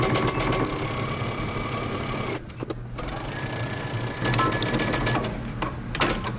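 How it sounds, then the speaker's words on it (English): A sewing machine runs steadily at close range, stitching pockets onto the front and back panels of a bomber jacket, with one brief slowdown partway through before the stitching resumes. "we're going to stitch our pockets down to our fronts and our back"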